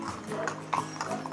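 Hooves of Corsican horses clip-clop at a walking pace on a trail as riders travel, steady and fairly close, with a faint voice in the background.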